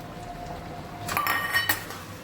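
A spoon stirs steamed fish-roe curry in a metal pot, giving a quick cluster of bright metallic clinks and scrapes near the end over a low background hum, close and alone.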